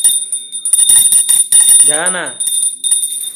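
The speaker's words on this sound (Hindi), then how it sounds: "आपको आवाज आ ही रही होगी घंटी की" A hand bell rings continuously during a Hindu puja at home, a bright sustained ringing under close talk from a man and a brief higher voice.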